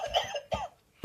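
A cigarette-detecting novelty device lets out a rapid run of artificial coughs: two or three rough, close bursts within about a second, the last one cut off sharply.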